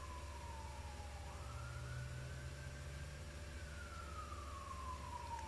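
A distant siren wails with a slow rising and falling tone, faint but steady over a low background rumble.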